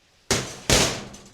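Two sharp metallic hammer blows strike rivets on a live steam engine tender tank, very loud and close, each ringing briefly before fading.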